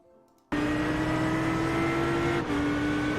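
Racing car engine in a sim racing game holding a loud, steady high-revving drone after a sudden start, with a brief dip and shift in pitch near the end like a smooth gear change.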